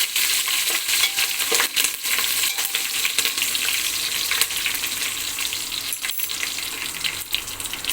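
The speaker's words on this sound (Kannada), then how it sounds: "ನೋಡಿ ಸೌಂಡ್ ಏನು ಬರ್ತಾ ಇದೆ, ಚಟಪಟ ಅಂತ ಹೇಳಿ." Spices crackle and sizzle in hot oil while tempering for rasam, a dense, steady frying hiss with scattered sharp pops, close and continuous throughout.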